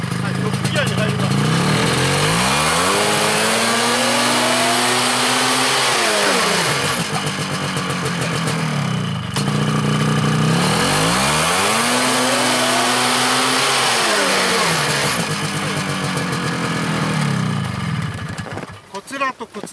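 A snowmobile engine revs hard in top gear at a training course, rising and falling in two long sweeping revving cycles, loud and close, with the drive clutch spinning at a 1:1 ratio; a brief sputter at the end.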